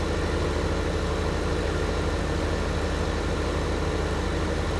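Tractor with a crop sprayer working a canola field in Farming Simulator 15, a steady droning engine idle with a low rhythmic pulse that holds evenly throughout, no talking.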